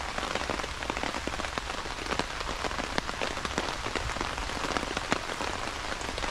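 Steady rain patters on a tarp shelter in woodland, a dense, close, continuous hiss of drops with small irregular taps and no talking.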